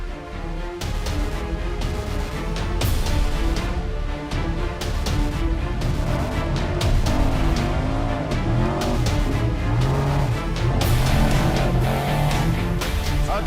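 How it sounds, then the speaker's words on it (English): Off-road racing trucks crawl and rev through tight rock trails at King of the Hammers, engines roaring loudly and continuously with rising and falling revs across the whole stretch. "taking these huge cars through these tiny little rock trails"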